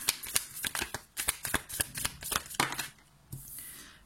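Tarot cards shuffled and drawn by hand: quiet, close, irregular flicks and papery riffles in quick bursts with short pauses, and no speech.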